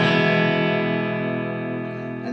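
A single distorted electric guitar chord with Westcreek pickups rings out and slowly decays, thick and buzzy with a sustained, effected tone.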